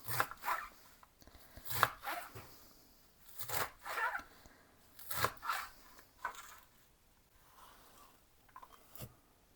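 A knife chops through soft dill and parsley leaves on a cutting board in quick bursts of crisp strokes separated by short pauses, close and fairly quiet.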